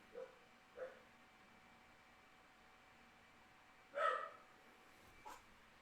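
A single dog barks a few times in the distance, with short yips spaced apart and a louder double bark near the end, faint against a quiet room.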